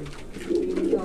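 A pouter pigeon gives a close, deep, resonant coo that swells toward the end of the short stretch, with no one talking.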